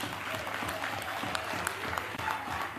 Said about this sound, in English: can we clap for Robert Sobukwe?